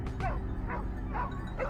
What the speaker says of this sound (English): we were joined by well-trained hunting dogs specialized in sniffing out and tracking down wild boars